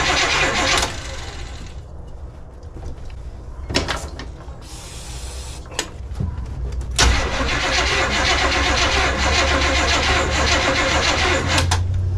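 A 1986 Chevy G20 van, sitting unused for five years, cranks in several loud bursts before the engine catches and settles into a steady, rough idle close by.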